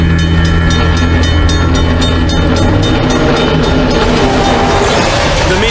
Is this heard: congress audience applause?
no